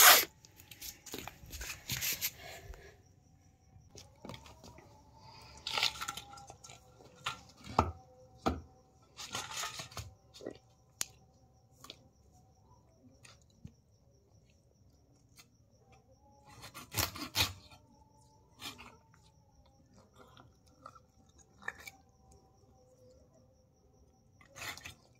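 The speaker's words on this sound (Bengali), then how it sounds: "দেখো প্রথমে মাথাটা ঘ্যাচ করে কেটে দিলাম, এবার পাখনাগুলো কাটছি।" A large fish being cut up with a knife, the head and then the fins: close, sharp chopping strokes that come in uneven bursts with quiet pauses between, and no talking.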